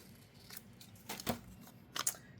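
Scissors trim paper for a junk journal in a few quiet, quick snips against a faint room hush.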